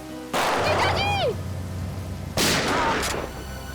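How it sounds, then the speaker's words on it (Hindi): Gunfire in a tense crime-drama scene: a loud sudden burst of shots followed by a second blast about two seconds later, each leaving a ringing, echoing tail over a low background hum. "बहुत शौक है गोली चलाने का है?"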